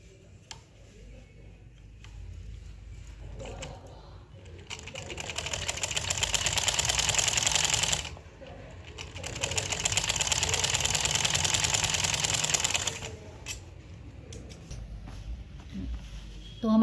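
Sewing machine stitching a zip into trousers, running in two sustained loud bursts of rapid mechanical stitching, with quieter ticking and handling between and after them.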